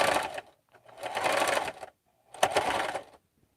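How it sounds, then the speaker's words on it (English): A loud mechanical sewing machine stitching in three close bursts of rapid, rattling chatter, separated by short pauses of near silence. "I don't know if this machine has always been loud"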